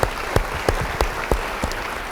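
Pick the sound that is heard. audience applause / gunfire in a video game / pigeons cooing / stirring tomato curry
audience applause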